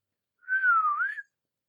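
A single loud, clear whistled note from a person, rising and dipping in pitch for about a second, imitating the loud whistling of neighbors.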